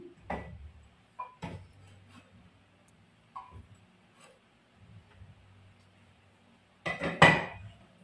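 Pork dinakdakan stirred lightly in a pan, giving sparse, quiet clinks and scrapes of a utensil against metal with short pauses between, ending in a louder clatter.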